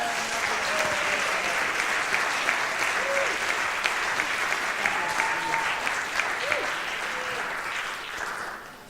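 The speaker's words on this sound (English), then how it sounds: "so can we give a round of applause for them?" Sustained audience applause at a community jazz jam, a dense, even clapping wash lasting about nine seconds with faint scattered voices and whistles, tapering slightly at the end.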